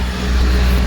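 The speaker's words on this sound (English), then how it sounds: "There's a bus behind us." A bus driving on a suburban road close behind, a steady loud low engine rumble with broadband road noise throughout.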